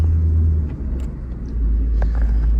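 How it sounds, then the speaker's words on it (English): A Ford Focus Mk3 with a manual gearbox and a newly replaced clutch drives along, its engine and road noise forming a steady, loud low rumble that dips briefly and then swells again. "I'm so happy with how this car drives now"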